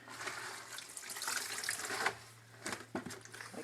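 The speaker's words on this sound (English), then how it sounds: "We put them in an ice cream bucket with water" Water splashes and pours into a bucket to soak corn husks for tamales, an uneven close splashing with a few stronger gushes and a faint steady hum beneath.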